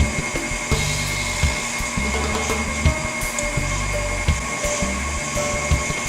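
An electric mixer whirs steadily through cupcake batter for Hatch tres leches cupcakes, a constant motor drone close up with intermittent knocks and clatter from the beaters against the bowl.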